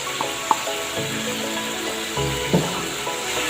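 Garlic and onion frying in a pan make a continuous sizzle, with a couple of sharp spatula clinks against the pan, close and steady with no talk.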